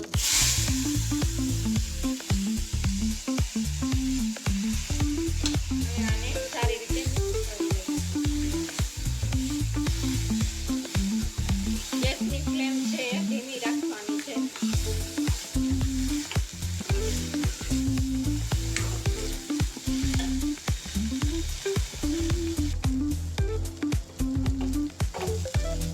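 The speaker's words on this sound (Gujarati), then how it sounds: "હવે તેમાં બાફેલા મગ નાખીશું." Boiled mung beans sizzle loudly in a hot pan while being stirred, a continuous crackling fry with scraping stir strokes and a brief quieter dip midway, no voices.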